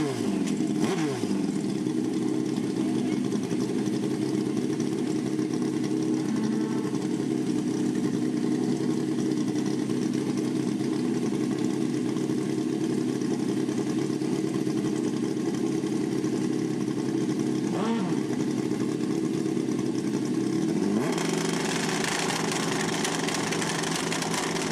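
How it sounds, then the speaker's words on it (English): Drag racing motorcycles, a Suzuki Hayabusa and a Kawasaki, rumble steadily at a race event for a long stretch, with a few rising revs cutting through and a harsher, brighter engine roar swelling near the end. "Bernard Gilbert, Covington, Georgia on a Hayabusa in the FTI lane"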